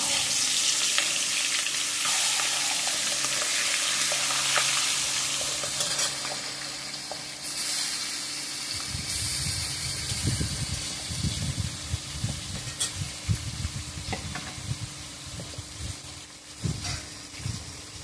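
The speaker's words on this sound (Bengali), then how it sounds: "এবার আমি মাছগুলো ভেজে নেব। মাথাগুলো ভেজে নিচ্ছি।" Rohu fish heads frying in hot oil in a pan, a steady close sizzle and crackle that swells louder partway through with bursts of spitting, no voices.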